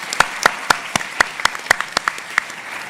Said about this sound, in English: giving applause for our chair, Joyce Beatty, representative from Ohio